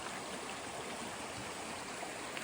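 A steady, even rush of flowing stream water on a hiking trail fills the whole stretch, close by and unbroken, with no voices.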